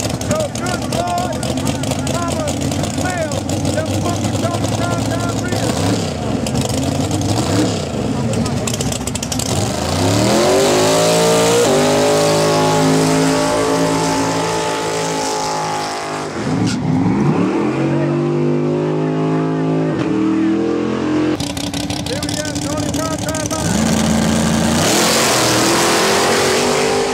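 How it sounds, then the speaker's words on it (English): A Pro Stock drag race car on brand new tires does a burnout: a loud, sustained engine roar with rising and falling revs, a brief dip partway through, then the howl returns at full force. "Get ready for one hellacious burnout"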